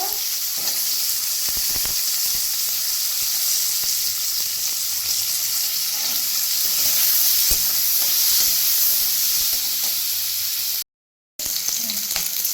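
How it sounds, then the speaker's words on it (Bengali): Carrots and beans fry in a pan after potatoes, a steady loud sizzle with a few light stirring clicks, running continuously apart from one brief dropout. "গাজরটা ভেজে নেব বিনসটা ভেজে নেব"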